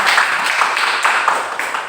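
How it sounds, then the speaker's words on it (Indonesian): A classroom of students claps for a presenting group during a microteaching session, close and lively applause with slightly uneven rhythm that fades a little at the end. "beri tepuk tangan buat kelompok 3"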